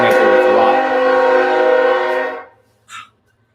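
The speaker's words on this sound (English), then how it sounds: "Man, that train." A train passes close by with a loud, sustained horn-like tonal roar that holds steady for over two seconds, then cuts off abruptly, followed by a brief faint tone.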